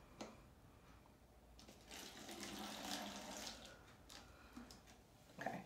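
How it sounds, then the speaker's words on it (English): A thin stream of vinegar is poured slowly into a bottle, making a soft, steady trickling gurgle that lasts a few seconds. It is faint and close, with light handling noise at the start and end. "we're going to slowly pour it into our bottle"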